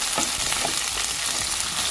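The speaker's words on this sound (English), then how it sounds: "We have to keep tossing them." Home fries and onions tossed and stirred in a frying pan, giving a continuous close sizzle broken by several scraping, shuffling stirs over about two seconds.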